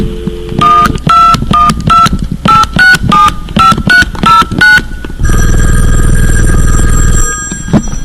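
A rapid sequence of about eleven crisp, evenly spaced telephone DTMF dialing tones for 212-867-5309, followed by a loud, sustained steady tone and a brief beep at the end.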